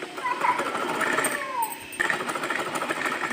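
A sewing machine stitches seams on palazzo pants, a close, continuous mechanical whir through a short stretch with a faint background of room noise.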